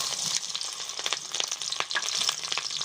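Chopped green chili sizzles in hot mustard oil in a wok, a crackling, spattering fry with irregular sharp pops and stirring scrapes, close and steady with no voices.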